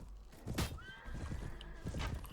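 A horse in the video game Mount and Blade: Warband whinnies once, a short rising neigh, amid nearby hoof clip-clops and thuddy game noise at moderate loudness.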